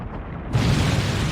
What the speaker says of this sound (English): Explosions? What?